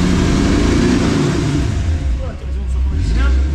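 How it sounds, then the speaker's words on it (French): A V8 engine in a Plymouth Barracuda runs loudly and steadily, its low rumble and revving filling the whole stretch, with a slight dip near the middle before it picks back up. "Le moteur peut reprendre ses tours"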